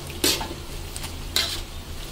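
Oil sizzles steadily in a pan of frying battered chicken skin, with two bursts of scraping stirring close by; no one speaks.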